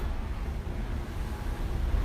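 Strong wind and rain storm outside a chapel, a dense, steady low roar of gusting wind and rain, continuous and fairly loud, with no clear breaks.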